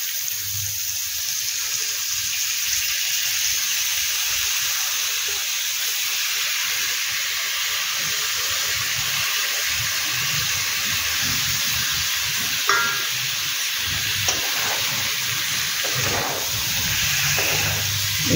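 Paneer pieces and a green chilli fry in a pan of cooked-down spice masala for paneer bhurji, giving a long, even sizzling hiss with occasional spatula scrapes toward the end and no speech.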